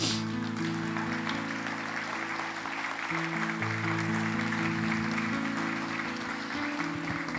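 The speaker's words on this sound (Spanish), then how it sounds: "¿Quiere darle un aplauso al Señor?" Church congregation applauding together after the pastor calls for praise during a Spanish-language sermon, a steady wash of clapping lasting several seconds beneath sustained organ or keyboard chords.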